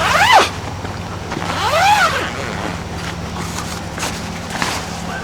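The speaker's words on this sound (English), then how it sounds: "I'm going to unzip this bag" A zipper is pulled open on the carry bag of a DEERFAMY pop-up camping tent, two or three rising rasping strokes close by, followed by quieter rustling and handling.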